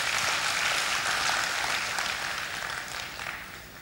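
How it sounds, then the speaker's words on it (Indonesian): A church congregation applauds during a Christmas sermon, a dense, steady wash of many hands that fills the room and slowly thins toward the end, with no voices standing out. "Berikan tepuk tangan buat Tuhan Yesus."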